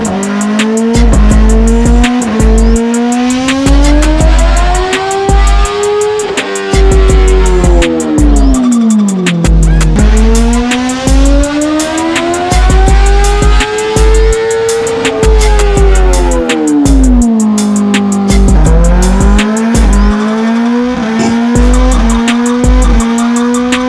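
A 2022 Kawasaki ZX-10R sportbike runs a baseline pull on a dyno, engine loud and close, revving up and down in long repeated sweeps with no talking.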